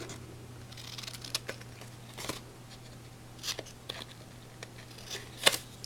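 Scissors trimming paper for a Halloween tag book give a few short, faint snips and crisp rustles spread across a quiet background with a low steady hum.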